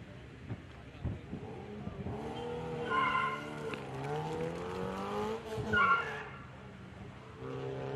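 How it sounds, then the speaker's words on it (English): A turbocharged Rocket Bunny S14 with a VK45 engine runs a gymkhana course, its engine revving and rising and falling in pitch as it accelerates, with a tyre squeal, heard from a distance while an announcer talks over it. "Lorcan coming up again now with the Rocket Bunny S14 VK45 turbocharged"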